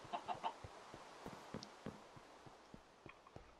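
A Minecraft chicken clucks in a phone booth, three quick clucks up front, then scattered softer clucks and small clicks, faint and close, with no talk.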